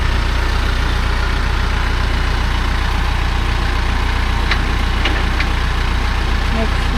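A tractor engine idles steadily and loudly nearby while a bucket is attached to it on a farm, a constant low diesel throb. A few faint metallic clinks sound over it.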